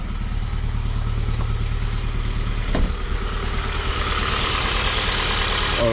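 A used car's engine idles with a steady low rumble and even, continuous hum, close by, with a brief knock or clunk partway through before the idle carries on.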